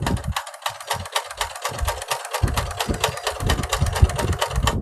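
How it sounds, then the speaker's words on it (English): A sewing machine back stitching a pant hem, running as a loud, steady rapid needle clatter with quick mechanical rhythm and brief stops and restarts, close up and alone without talk. "I'm going to give it a good back stitch right there"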